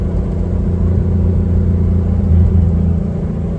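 Steady interior rumble of a 1956 Chevrolet 210 on the road, its mid-pitched engine droning evenly throughout, loud and close with a slight swell near the end.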